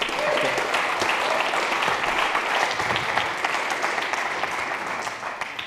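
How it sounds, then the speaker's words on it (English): A conference audience at a design and development smackdown gives a round of applause, a full, steady burst of clapping that holds strong and then tapers slightly toward the end. "Give him a big round of applause, ladies and gentlemen"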